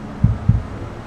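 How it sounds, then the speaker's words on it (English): Two soft, low heartbeat thumps in quick succession played through a car's driver scanner, muffled and steady over a faint background hum. "You hear that? Little heartbeat."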